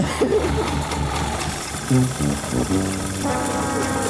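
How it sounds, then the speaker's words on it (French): A car engine running on kerosene keeps running after the ignition is switched off, with a rough, knocking rumble, loud and close, while voices talk over it. "j'ai coupé le contact, elle tournait encore"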